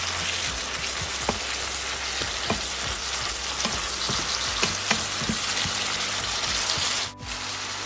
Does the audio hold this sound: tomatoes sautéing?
yes